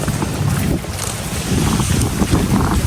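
Strong wind roars across a boat on open water, a loud continuous rushing blast with low rumble and the wash of waves beneath, no voices.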